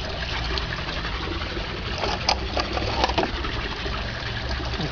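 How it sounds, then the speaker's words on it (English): Water spraying from a garden hosepipe, a continuous hissing gush at moderate level with small splashy bursts, no talk over it. "So watch the reaction when I pick up the hose pipe."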